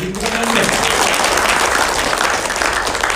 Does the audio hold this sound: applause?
yes